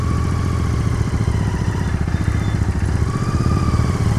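A loud Royal Enfield Continental GT 650 motorcycle engine throbs steadily nearby while riding, with a rapid, low chugging rhythm, accompanied by faint rattling and wind noise throughout.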